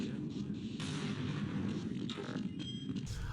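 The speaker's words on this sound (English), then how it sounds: "The game gives me those grenades, and I decided to test them out on this scientist." Grenade explosions from the video game Half-Life, a loud, dense, rumbling burst of booms that runs through the whole stretch and ends with a sharp cut, with game sounds layered over it.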